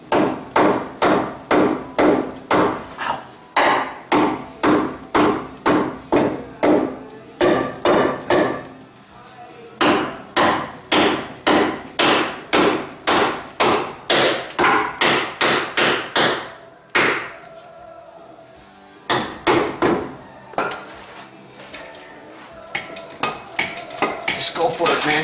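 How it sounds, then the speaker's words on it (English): Rapid, repeated metallic hammer blows on the sheet metal of a Ford F-150 body during rust repair, loud and rhythmic in bursts of many strikes with brief pauses between. "Need my hammer. There it is. I need to knock this one."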